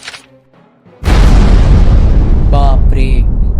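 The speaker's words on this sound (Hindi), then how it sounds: "बगी बॉल के इस धमाके ने कितने सारे घर को उड़ा दिया" The Buggy Ball cannon in One Piece fires a sudden, massive boom that swells into a long, rumbling blast as houses are destroyed, with brief voices before it and shouts over the roar.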